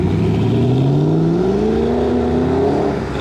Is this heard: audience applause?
no